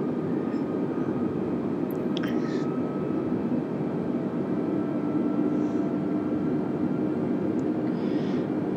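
A steady airliner cabin drone from an Airbus A320 window seat on a Spirit Airlines flight from the Bahamas to Miami in Microsoft Flight Simulator 2020, a constant low engine and airflow hum with no talk.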